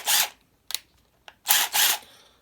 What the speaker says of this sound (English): Now, this is an impact gun.